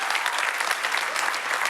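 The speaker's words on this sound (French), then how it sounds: "par applaudissement. Voilà." A church congregation bursts into applause, many hands clapping in a thick, even roar that holds steady throughout, close and loud.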